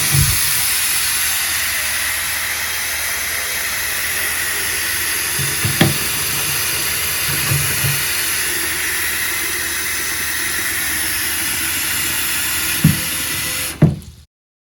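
Bathroom sink faucet running fully open on both hot and cold, a loud, steady rushing hiss of water close by with a few faint knocks, ending abruptly as it shuts off.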